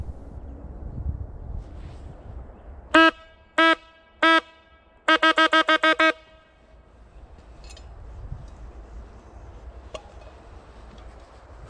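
A hunting horn sounds close and loud during a wild boar drive hunt, with three single blasts and then a quick run of short notes, against quiet woodland.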